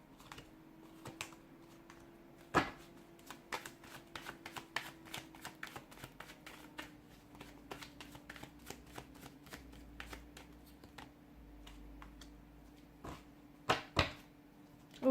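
A deck of tarot cards is shuffled close by, soft papery riffles and flicks in irregular bursts with a few sharper snaps, quiet and alone.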